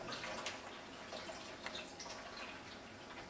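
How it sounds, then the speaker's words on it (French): Cold water pours into a small cup-sized pot as a faint, continuous trickling splash, soft and close, with no one speaking. "On met de l'eau froide dedans."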